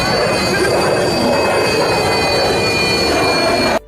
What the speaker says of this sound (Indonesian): Yang kedua, pencemaran suara pada pesawat.